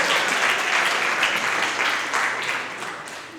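Audience clapping at a young couples' finance seminar, a dense, steady burst of many hands that carries through and fades slightly toward the end.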